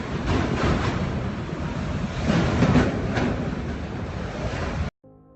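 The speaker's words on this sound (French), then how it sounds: "le typhon Jebi sévit à l'ouest du Japon" Loud, roaring wind and crashing waves from Typhoon Jebi lashing western Japan, a continuous broadband rush with surging gusts, dropping off abruptly near the end.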